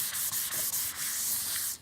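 Fine sandpaper rubs across a painted board in quick back-and-forth strokes, a close, steady hissing scrape with brief pauses between passes.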